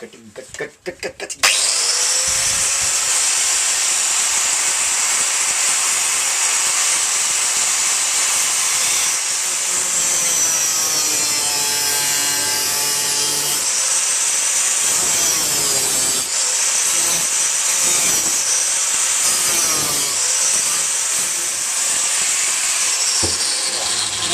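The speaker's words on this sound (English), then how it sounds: "So it's time for some grindage or cutting." An angle grinder's cutting disc slices through a Suzuki Bandit 1200 exhaust pipe in a home garage, a loud, continuous high-pitched metallic whine and hiss that holds steady for about twenty seconds after a short start.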